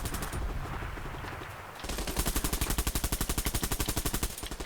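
Gunfire in the video game Bullet Run: a scattered exchange of shots, then a sustained rapid automatic burst with a steady fast rhythm, loud and close.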